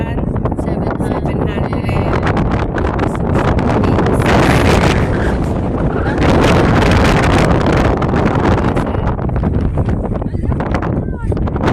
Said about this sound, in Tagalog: Lakas ang hangin, guys.